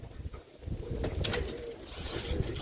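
Roller pigeon cooing in low, throaty pulses over a steady background, the calls moderately close and continuous through the short stretch, with a brief higher rustle near the end.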